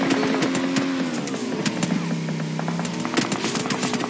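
Rapid automatic gunfire from PUBG Mobile during a competitive scrim match, a dense stream of shots running steadily throughout with a sustained tonal hum beneath, loud and continuous with no talk.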